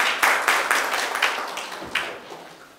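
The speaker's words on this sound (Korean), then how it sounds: "박수 한번 부탁드리겠습니다" A modest audience at a local autonomy development forum on Jeju gives a short round of clapping, distinct claps at first that thin out and fade quickly.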